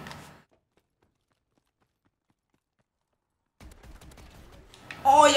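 A Bulldog gun fires in Call of Duty: Advanced Warfare. Rapid, clattering shots start after a long stretch of near silence and end in a loud close burst.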